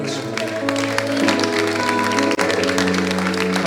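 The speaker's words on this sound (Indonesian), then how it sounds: "Para pelayan altar beri tepuk tangan untuk Tuhan." Church congregation clapping during a Sunday Pentecostal worship service in Gorontalo, steady dense applause sustained throughout over loud organ-like music, with no pause.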